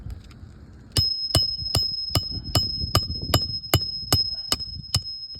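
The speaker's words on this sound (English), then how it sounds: "we're gonna hammer it in flush" Eleven sharp, evenly spaced hammer strikes drive a nail flush into a roof shingle close by, each blow giving a bright metallic ping over faint background shuffling.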